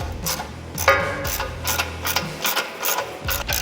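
A socket ratchet clicks in quick, regular bursts while tightening stainless steel bolts with lock washers on a grading bucket attachment, close and clear with no talking.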